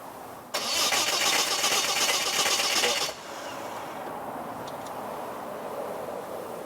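A Ford Barra straight-six engine fitted in a drag-built Mustang cranks briefly and then catches. For about two and a half seconds there is a loud, steady starter whir, and then the engine settles into a quieter, even idle.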